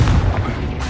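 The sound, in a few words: Confringo blast spell exploding, from video game Hogwarts Legacy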